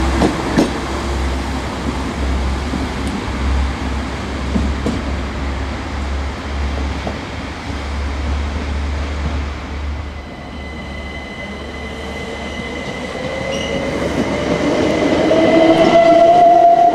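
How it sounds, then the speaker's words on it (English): A Southern or Thameslink train standing at a south London station platform, a steady low rumble and hiss with a rising whine toward the end, alone without talk. "The train now standing at platform 4"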